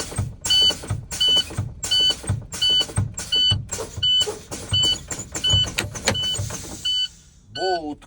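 A truck's air brake pedal is pressed and released over and over while air pressure is drained, giving a regular series of sharp hisses and pneumatic clicks with brief gaps, close by, ending in a short chirping tone.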